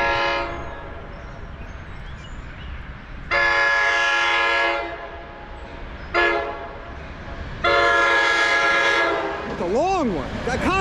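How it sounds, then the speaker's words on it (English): NJ Transit commuter train passing close by, sounding several long loud horn blasts separated by short gaps, with rumbling rail noise underneath throughout. "Gave me a nice horn show."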